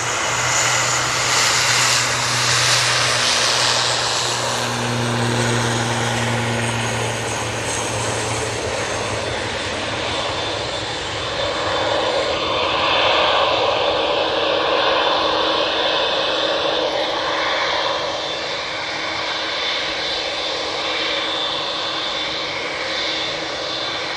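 Aer Lingus and Etihad airliners departing Manchester Airport, their engines a loud, steady roar that swells and shifts over about 24 seconds, with a low droning hum early on and no talk.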